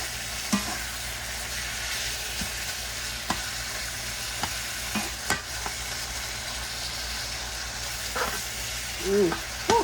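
Chicken breast, ground turkey, peppers and onions stir-frying in a pan make a continuous sizzle and hiss, with intermittent spatula scrapes and knocks against the pan throughout.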